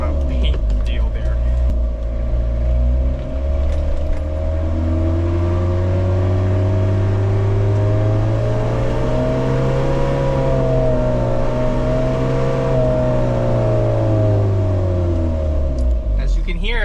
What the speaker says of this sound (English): As you can hear, this truck runs really smooth.